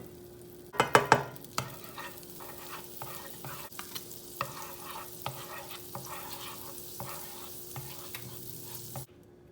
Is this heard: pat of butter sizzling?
yes